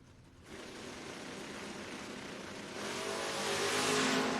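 A drag-racing Mustang and a Vega launch at a door-car event, a dense, loud engine roar that swells sharply after a brief quieter start and keeps building to a harsh, full-throttle blast, no voices.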